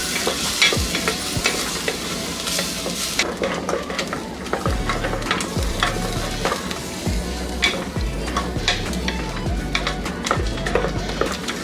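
Masala paste frying in hot oil in a pan for an avarekalu lima bean pulao, a loud steady sizzle with frequent spatula scrapes and knocks against the pan, close and continuous, with no talking.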